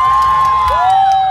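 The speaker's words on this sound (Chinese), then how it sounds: "请给发箍一些掌声" A crowd at a fan event at the Mango Youth Festival cheering in a brief loud burst, with high sustained shrieking voices ringing over the crowd noise.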